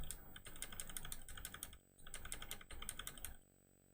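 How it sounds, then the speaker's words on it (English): Bursts of rapid clicking from a clicky computer keyboard, quick keystrokes in three runs separated by short pauses, close and crisp with no talking. "That is my clicky keyboard."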